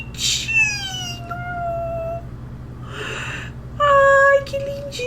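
A pet cat meows indoors: a long drawn-out meow first, then a shorter one after a pause, close and clear over a steady low hum, with a brief voice in between.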